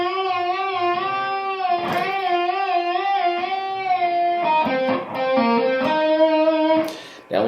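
Electric guitar playing a solo lick with a full string bend and wide vibrato, the sustained note wavering strongly up and down, followed by a quicker run of picked notes, loud and alone.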